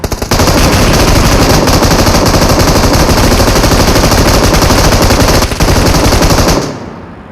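Automatic gunfire in a PUBG tournament match, a loud, relentless rapid-fire burst that runs almost without a break before cutting off abruptly near the end.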